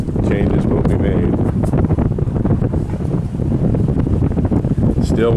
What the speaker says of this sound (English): The weather's been just kind of cloudy and windy.